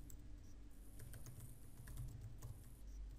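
Rapid, quiet clicking of computer keyboard keys over a steady low background hum, with no voices.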